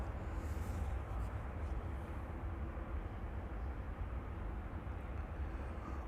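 An Eastern airliner flying for Suriname at Amsterdam Schiphol Airport, a steady broadband jet roar heard from a distance, continuous and even, with no voices.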